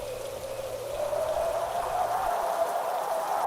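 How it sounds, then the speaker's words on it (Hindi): Cartoon-style rain effect for a forest scene, a steady soft wash of falling rain with a faint tonal hum underneath, constant and moderately loud with no voices. "जंगल में ठंडी हवा चल रही है और बारिश फिर शुरू हो जाती है।"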